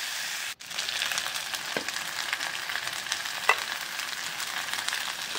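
Crushed ginger-garlic paste fries in a pan for a yam potato and fish curry, making a continuous, close sizzle with a few faint stirring scrapes and a brief dip near the start.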